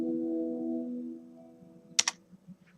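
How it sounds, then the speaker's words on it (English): A fading tone gives way to quiet, then two sharp keyboard key clicks in quick succession, followed by a few faint taps. "Now I'm going to press the delete key on the keyboard."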